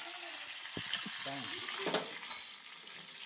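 Cumin, curry leaves and pepper sizzle in hot oil with a steady hiss, joined by brief stirring clatter and a short burst of a voice in the background.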